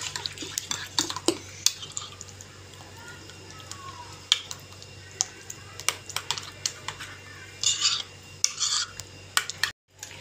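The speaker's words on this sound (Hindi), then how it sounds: "ये हमने इसके अंदर डाल दी, इसको हमने अच्छे से कर लेते हैं मिक्स।" A spoon stirs cucumber raita in a bowl, making quick irregular clicks and scrapes close by, with short bursts of faster mixing toward the end.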